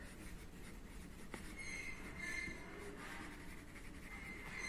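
Pen or chalk scratching steadily across a page or board during a school lesson, a faint continuous scraping with a few light taps, alone and fairly quiet.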